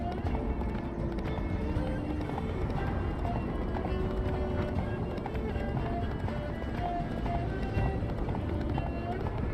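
A horse gallops in The Witcher 3, its hooves drumming in a fast, steady rhythm under background game sound.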